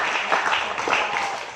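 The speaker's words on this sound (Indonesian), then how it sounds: "Kasih tepuk tangan." Audience applause at a school leadership training event in Bojonegoro, a steady wash of clapping from a crowd heard at moderate level for a short burst.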